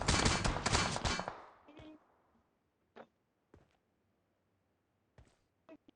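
PUBG Mobile gunfire on the Livik map, including an M24 rifle, opens with a loud burst of shots that fades out, followed by several sharp, isolated cracks spaced apart in relative quiet.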